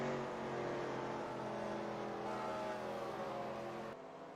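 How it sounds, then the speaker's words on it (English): Stock race cars roar past on the oval track at Gateway, a steady, loud engine drone with layered revving tones that holds throughout and eases slightly near the end, with no talk heard. "More cars speed by."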